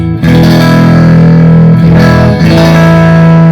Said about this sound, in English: So my pre-effects is actually a valve boost on here.